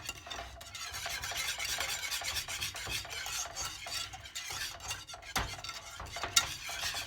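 Cinnamon being stirred into a pot of vinegar pie filling, a steady close scraping swish of spoon against pot with occasional louder knocks, no talking.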